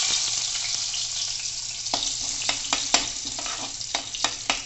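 Garlic dropped into hot oil with cumin for tempering a karela and banana dish, a steady frying hiss broken by a string of sharp sizzling pops and spoon stirs, close and alone.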